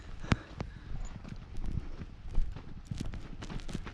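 Donkeys walk along a desert trail near a creosote forest, hooves clip-clopping in an uneven, close rhythm on hard ground, with faint background rustle.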